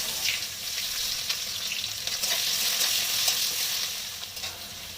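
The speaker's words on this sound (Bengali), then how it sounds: "লবণটা দিয়ে পেঁয়াজটাকে একটু ভেজে নেবো নেড়ে চেড়ে, যতক্ষণ না পেঁয়াজটা একটু নরম হচ্ছে" Onion frying in oil with melted sugar and black cumin, stirred in a pan: a continuous bright sizzle close by, with faint scraping strokes and no voices.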